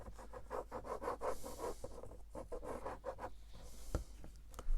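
Paper envelope flap being folded over and creased by hand, giving a run of soft rubbing and scraping strokes, close and steady, with no talk.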